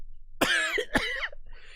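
A woman gives two harsh, wet coughs close by, spaced about half a second apart, each with a rough rasping tail, followed by a faint breathy sound.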